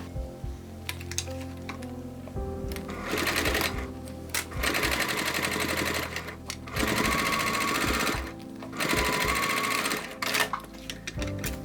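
Sewing machine stitching lining onto a cork crossbody bag, several short close bursts of fast whirring stitches separated by pauses with clicks and fabric handling.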